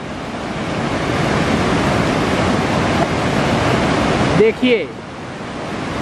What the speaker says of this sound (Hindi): ये देखिए, गंगा जी की लहरें, ये देखिए अपने उफान पर हैं गंगा जी।